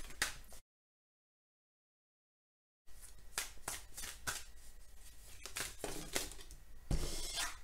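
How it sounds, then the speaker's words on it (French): Oracle cards being shuffled by hand, a run of close, crisp flicking riffles and soft slaps, starting after a brief gap of silence, with no speech. "On va demander quelques cartes à l'oracle des miroirs pour voir s'il y a un complément concernant votre tirage."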